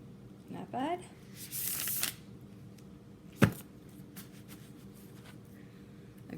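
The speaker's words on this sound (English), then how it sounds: "I've gotten a lot better over the past 6 months or so at riffle shuffling." Mystic Mondays tarot cards, fairly thick and rigid, riffle shuffled in a short burst with a quick flutter of card edges and a brief cascade, followed by a single sharp tap, then quiet room tone.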